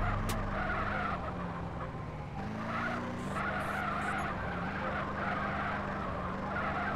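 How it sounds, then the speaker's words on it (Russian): BMW M5 drifting in the game GTA, with a continuous, loud skidding tire squeal layered over a steady engine drone that shifts pitch as the car slides, no talking. "Парни, дрифт с М5."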